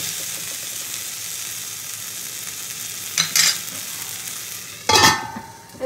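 Sugar stirred into a meat curry in a pan, a soft steady sizzle with two short bursts of scraping and stirring, close and moderate, no talk.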